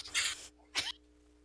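Two short, breathy bursts close up, like a sneeze and a follow-up exhale, each loud and sharp against a quiet room with a faint electrical hum.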